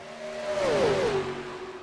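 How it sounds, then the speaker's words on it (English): Gen 4 NASCAR stock cars with restrictor plates and X-pipes race in iRacing, a sustained engine note that swells and bends in pitch as a car goes by, loud and continuous with no talk. "you're going to hear these Gen 4 cars scream, the old restrictor plates, the old X-pipes"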